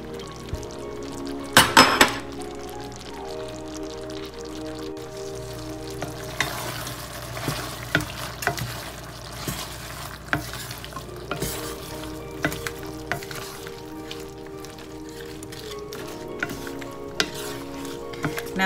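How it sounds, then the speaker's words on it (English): Julienned vegetables are stirred into a sizzling pot of coconut curry shrimp, a steady frying hiss broken by scraping utensil strokes and occasional clanks of a spoon against the pot, close and continuous. "add all our julienned veggies to this pot"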